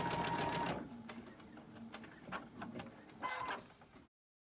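Sewing machine stitching quilt seams, a close burst of rapid stitching that slows into scattered clicks and short mechanical runs, ending abruptly.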